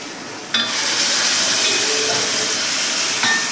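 Ground coconut masala paste hits a hot pan of wilted ingredients, setting off a sudden loud, steady hissing sizzle that holds for about three seconds before easing off.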